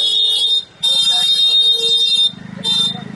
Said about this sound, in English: The honking.